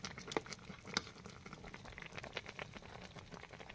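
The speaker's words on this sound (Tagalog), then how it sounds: "And then tuloy po natin pakuluan yan hanggang sa maubos po yung sabaw niya" Laing of taro leaves boils down in an uncovered pot, a steady close bubbling and simmering with a few sharper pops and spits near the start, no voices over it.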